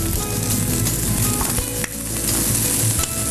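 Garlic, green chili paste and onion sizzle loudly in a little butter in a pan, a dense, close, continuous frying hiss with faint stirring knocks.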